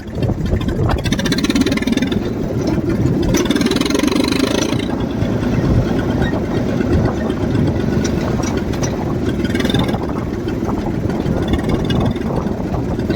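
A loud tractor engine chugs steadily throughout, a continuous low rumble close by with no break, as it is used to pull an auto-rickshaw stuck in mud.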